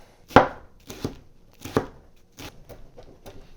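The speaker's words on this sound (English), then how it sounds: "Take all this, just chop it kind of fine." A knife chops vegetables on a board for turnip, potato and leek soup, a few sharp, distinct strokes spaced irregularly and fading to lighter taps, close and clear with no talk.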